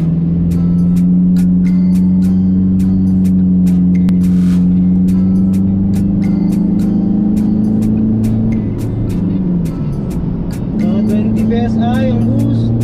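A remapped Toyota Hilux Revo pickup accelerating hard on an open road, its engine droning loud and steady from the cabin, rising then briefly easing before pulling again, with someone talking over it.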